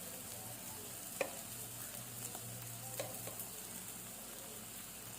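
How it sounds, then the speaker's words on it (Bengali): Bitter gourd dorma with coriander powder stirred in a frying pan, a constant soft sizzle with a few light spoon taps against the pan, close and quiet with no voices. "নাড়িয়ে দেব।"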